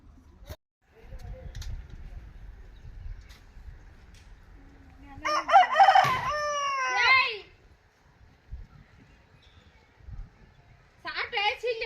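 A rooster crows once at mid-distance, a rising and falling cock-a-doodle-doo, with a second crow starting near the end amid quiet rural background noise and some faint voices.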